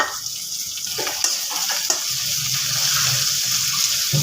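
Ginger garlic paste frying with chilli and onion in a pan, opening with a few scrapes and knocks of stirring, then settling into a louder, steady close sizzle with no talking.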